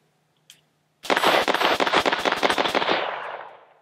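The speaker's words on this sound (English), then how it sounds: "It's kind of hard to describe, but just a soft shooting rifle. But let's do some more shooting." Rapid volley of shots from a Modern Outfitters MC6 AR-15 rifle, around a dozen close, loud cracks fired in quick succession after a single faint pop, with ringing decay at the end.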